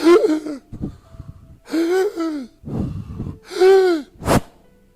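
A voice imitates the gasping breaths of a dying man: four drawn-out, wheezing gasps with short pauses between them, close and clear.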